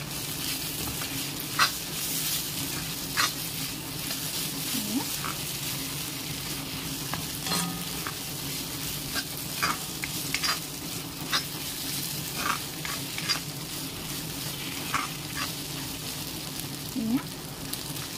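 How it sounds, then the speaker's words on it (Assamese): Areca flower curry with garam masala frying in a pan and being stirred, a steady close sizzle with intermittent scraping and clinking of the spoon against the pan. "এয়া গৰম মছলা অলপমান এনেই দিছোঁ গোন্ধটো ভালকৈ অহাৰ কাৰণে এতিয়া অলপমান লৰাই দিম"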